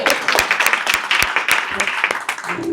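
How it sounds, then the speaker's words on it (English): A seated audience at a community presentation claps in a short round of applause, with individual sharp claps standing out from a moderate, somewhat sparse crowd under light background noise. "let's have a round of applause for that"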